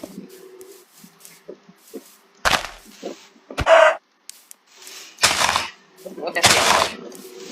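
Clucks and short squawks from a chicken in the Minecraft video game come in a few loud broadband bursts between quieter low tones, with someone talking in Thai around them.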